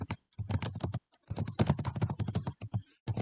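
Computer keyboard typing up close: quick clusters of crisp keystroke clicks with short pauses between bursts.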